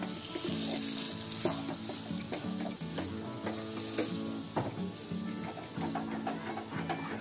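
A ghee-rich sweet mixture fries in a kadhai with a continuous soft sizzle, punctuated by repeated scraping clicks of a spoon stirring against the pan, close and moderately quiet.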